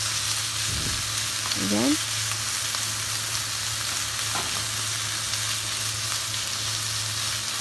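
Carrots and very thinly sliced beef stir-fried in a hot pan for yaki udon: a steady, loud sizzle runs throughout, with a couple of brief scraping clatters from quick stirring near the start.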